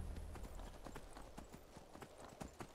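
Horse hooves clip-clop at a steady trot in the video game Skyrim Special Edition, a quick rhythmic series of soft thuds, faint and close.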